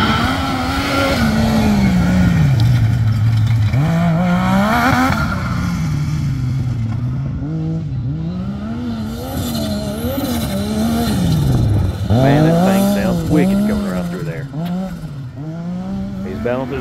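A turbocharged Yamaha YXZ side-by-side running nitrous tears around a dirt rally course. Its loud engine is close and continuous, with revs climbing and falling through gear changes and hard acceleration.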